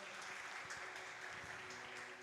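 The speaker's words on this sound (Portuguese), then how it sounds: "Você pode dar uma salva de palmas para ela?" A church congregation gives a steady, dense round of applause for the evening's minister, a continuous wash of many hands filling the hall.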